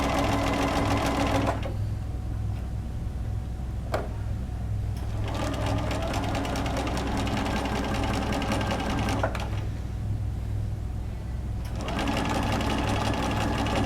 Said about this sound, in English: I'm just going to sew a 5/8 of an inch seam.